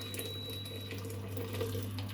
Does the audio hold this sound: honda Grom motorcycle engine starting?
no